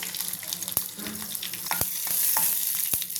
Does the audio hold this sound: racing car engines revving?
no